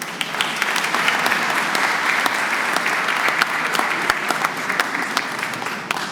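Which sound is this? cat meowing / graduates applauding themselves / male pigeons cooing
graduates applauding themselves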